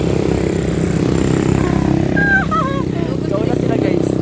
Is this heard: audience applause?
no